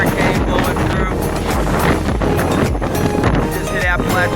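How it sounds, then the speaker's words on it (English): Hurricane-force wind at a fishing spot near the Skyway bridge under the outer bands of a passing hurricane, roaring and buffeting the microphone loudly and continuously, with gusty thumps throughout and speech partly buried in it. "It is super windy out here, guys."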